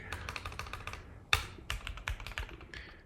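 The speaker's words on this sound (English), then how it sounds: "Not easy to record and type at the same time, I apologize." Fast, uneven typing on a computer keyboard, close up, a steady run of light key clacks with one sharper, louder strike partway through, no speech.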